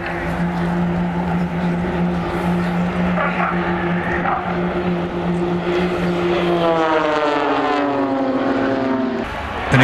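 Blades aerobatic team propeller aircraft sweep past at an airshow as they fly their break, a loud droning engine note that holds steady and then shifts downward in pitch as the planes pull away.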